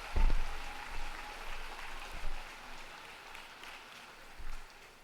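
A round of applause at a university commencement ceremony, fairly soft and spread out like a distant crowd, with a low thump at the start and mild swells in the clapping.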